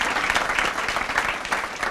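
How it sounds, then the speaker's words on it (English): Seminar audience applauding the school principals, a dense, steady wash of many hands clapping close and loud with no talk over it. "Principals, let's give them a round of applause."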